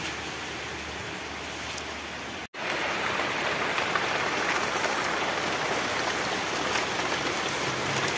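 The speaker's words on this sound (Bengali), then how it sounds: "বৃষ্টির পরিবেশ" Steady rain falls outdoors during a daylong downpour, a dense, loud, even hiss that breaks off once for an instant before continuing unchanged.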